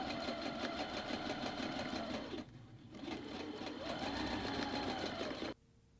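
Sewing machine back stitching a fabric pocket onto the main fabric of a passport cover, running in two close, steady bursts with a short pause between, then stopping abruptly.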